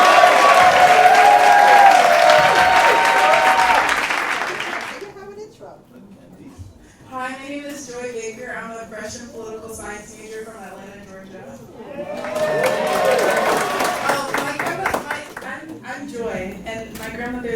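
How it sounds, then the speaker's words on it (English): Applause from a gathering at an 80th birthday celebration greets a university freshman, loud and sustained for about four seconds, then fades into talking, with a second burst of clapping rising near the end. "Clap it up for our Howard freshman here."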